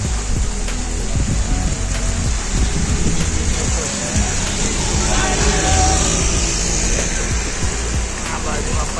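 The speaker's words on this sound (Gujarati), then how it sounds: "ગાઈસ વરસાદ ચાલુ થઈ ગયો છે" Heavy rain pouring outside a shop during a storm in Banaskantha, Gujarat, a dense continuous roar with faint traffic beneath and people talking over it.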